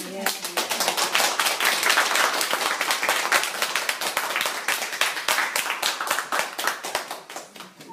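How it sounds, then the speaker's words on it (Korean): Congregation at a Won Buddhist temple ordination celebration applauding steadily, dense clapping throughout that thins slightly toward the end, close and loud. "다시 한번 박수 부탁드립니다"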